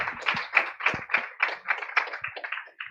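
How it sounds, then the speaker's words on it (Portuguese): People at a church service clap for a woman. The applause is brisk and close, with quick overlapping claps that come in soft rhythmic pulses and fade out after a few seconds, and no talking. "Uma salva de palmas para ela."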